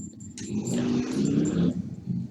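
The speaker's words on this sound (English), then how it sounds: "Motorcycles." Engines roar past nearby, a rising and falling motor drone that swells loudly through the middle before easing off, with no talking.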